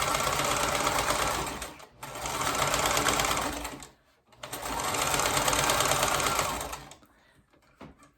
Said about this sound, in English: I put the foot down, and now I can just start sewing.